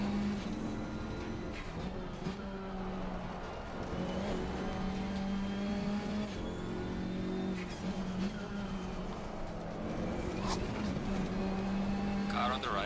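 Race car engine in a sim racing game at Oulton and Brands Hatch, droning steadily and shifting in pitch as it revs through corners, loud and continuous, with someone talking over it.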